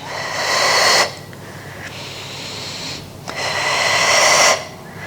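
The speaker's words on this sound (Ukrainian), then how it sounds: "глибоко видихнули ще" Two long, deep breaths pushed out forcefully through the mouth during a morning strength workout, each a loud, airy rush lasting about a second, close to the listener, separated by a quieter pause.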